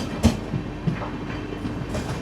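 The Chennai Central to Mumbai LTT superfast express, train 12164, rolls along with a steady rumble and a couple of sharp wheel clacks heard from on board.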